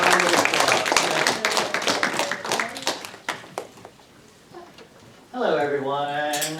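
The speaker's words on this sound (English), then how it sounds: "Everybody give Mr. Cham a round of applause." A school presentation audience applauds, with dense clapping that fades over a few seconds before a voice starts speaking.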